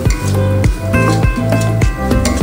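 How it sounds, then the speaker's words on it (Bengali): Cumin and chili powder masala being fried and stirred in a pan, loud close rhythmic scraping strokes about every third of a second over a continuous sizzle, no voices. "জিরে আর একটু লঙ্কা গুঁড়ো দিয়েছি, ভালো করে কষাবো"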